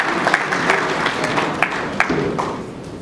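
Applause for a vice-minister of foreign affairs at a formal gathering, a steady wash of clapping with a few sharper nearby claps standing out, sustained throughout at moderate loudness.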